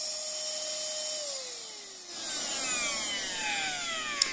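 A cordless handheld car vacuum cleaner (9500Pa) switches on and runs with a high, thin motor whine that winds up and shifts pitch over a few seconds, then ends with a brief click.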